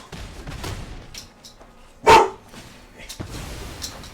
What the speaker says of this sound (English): Dogs are running wild.